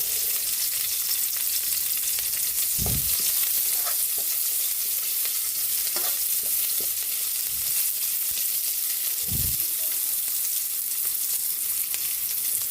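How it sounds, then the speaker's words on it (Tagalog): Onion and cooked garlic frying in a pan, a constant loud sizzle throughout with a few dull knocks of stirring against the pan. "Luto na yung bawang. Pwede na natin ilagay ang sibuyas."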